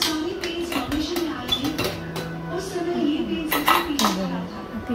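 Masala khichdi from a pressure cooker is dished out, with a spoon clinking and scraping against steel pots and plates in a quick irregular run, close by, over faint background voice and hum.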